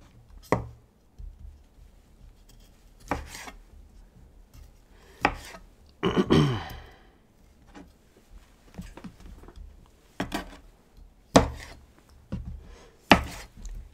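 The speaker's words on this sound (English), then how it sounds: "If you're chopping them, you can put them in a food processor and give it a pulse." Small tomatoes are chopped with a knife on a cutting board for bruschetta, giving sparse, sharp single knocks spaced a few seconds apart, plus one longer scraping rustle partway through, close and fairly quiet with no talking.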